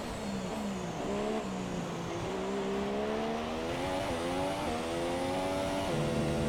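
A race car engine screaming through a hard corner in a racing video game, loud and close, pitch dipping and climbing through gear changes with a faint tire-squeal edge.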